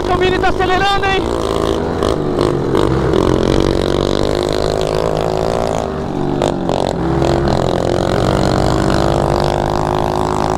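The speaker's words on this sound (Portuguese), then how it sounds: "Caraca, o Mini tá acelerando, hein." A mini motorcycle revs hard through a muddy bog in the rain, its small engine whining loudly and continuously, with clattering and people talking over the noise.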